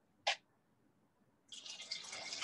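Cloudy water full of plaster sludge is poured between receptacles, starting with a single faint drip and then a soft, continuous splashing trickle.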